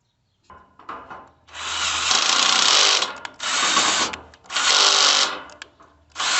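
Bursts of a tool or ratchet tightening a bolt on a Yaheetech fire pit table frame, three or four loud whirring runs separated by short pauses, close up with no voices.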